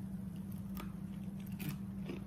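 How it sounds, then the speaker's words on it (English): A bite into crispy fried pollock fish gives a few short, close crunches over a low steady hum, with no talk. "Y'all want to hear this crunch?"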